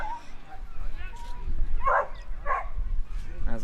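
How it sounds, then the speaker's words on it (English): Dogs barking at Kapunda Oval during a country football match, a few short yips and barks in the background under a commentator's voice, sun out and crowd ambience low. "As we hear dogs barking in the background"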